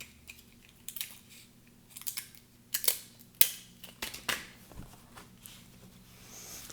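One-sided tape is handled, pulled and torn for a paper pop-up diorama, giving a series of sharp crinkly snaps and rips with short quiet gaps between them, close and fairly soft.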